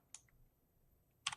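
A Razer computer keyboard gives two short bursts of key clicks, one near the start and a louder, denser cluster at the end, separated by near-silence.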